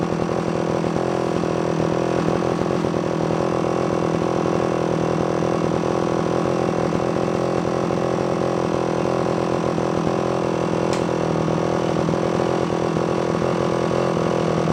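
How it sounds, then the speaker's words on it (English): The small motor of a garage-sale recumbent bike idles steadily and evenly, a close, continuous buzzing drone with no pauses or revving. "Nice and quiet. Nice little motor."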